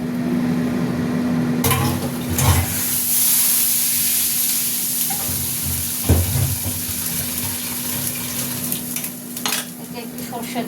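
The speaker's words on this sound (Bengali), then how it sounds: "কড়া বসিয়ে দিলাম, তেলটা দিয়ে দিলাম, মাছ ভাজার তেলটা" Leftover fish-frying oil topped up with mustard oil heats in a wok, a close, steady sizzle and hiss broken by a few clanks and bumps from the pan, with a faint hum underneath.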